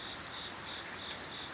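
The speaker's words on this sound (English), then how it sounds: "now it's scheduled to be rainy all day today" Steady rain falling through a day of continuous wet weather at a farmhouse, a soft broadband hiss with no individual drops standing out, moderately near and even throughout.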